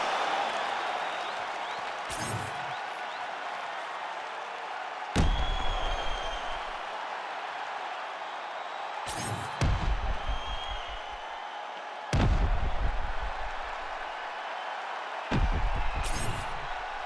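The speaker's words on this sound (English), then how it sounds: "Stand and cheer, ladies and gentlemen." Arena crowd at an MMA event cheering and applauding after a full 25-minute fight, a steady, moderately distant roar of applause with several sharp bursts of louder noise, while an announcer talks over it.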